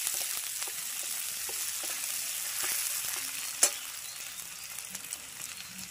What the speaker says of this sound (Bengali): পেঁয়াজ, কাঁচা লঙ্কা চেরাটা দিয়ে দেবো, দিয়ে নাড়িয়ে নেবো ভালোভাবে